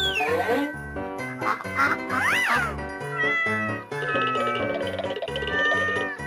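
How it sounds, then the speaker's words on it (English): A cat meows several times in quick succession, loud, close and strongly tonal, with rising and falling pitch and a drawn-out, whiny call near the end. "Cat."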